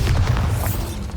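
Spell explosion from the Bombarda charm in the video game Hogwarts Legacy: a dense, booming low-end blast that holds steady and loud across a second, with no talk over it.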